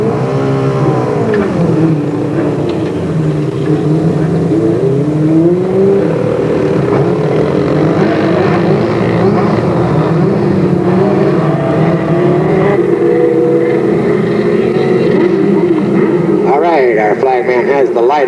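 Race cars lapping the Delta Speedway track in 1996, engines droning and rising and falling in pitch as they circle, loud and continuous beneath an announcer's steady commentary.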